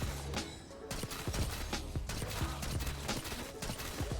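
Rapid gunfire in Black Ops 6 Zombies, with shots crackling in quick irregular bursts against a busy game backdrop, steady and fairly close throughout.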